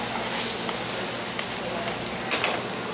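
Seafood sizzles in butter in a pan with a dense, continuous crackling hiss and a few sharper pops, close and fairly loud.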